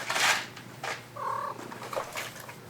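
A small shop cat in a car performance workshop makes soft meows and purring sounds, a few brief close vocalizations separated by short pauses.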